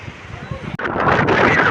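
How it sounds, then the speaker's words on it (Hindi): Strong wind gusting across the open mountainside at Mana village, roaring steadily and loudly against the microphone in the second half, with a person speaking over it. "तेज हवाएं देख सकते हो"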